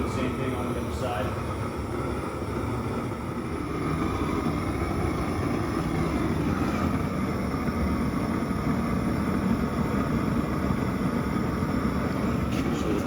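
Torch heating one side of a cast steel axle, giving a continuous loud roaring hiss that stays steady and close throughout, with no pauses.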